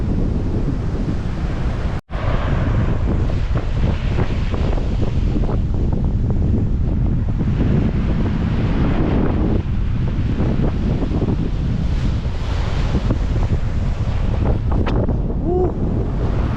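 Steady wind buffeting the microphone over the wash of sea waves on Madeira, with a sharp knock early on and no clear talk.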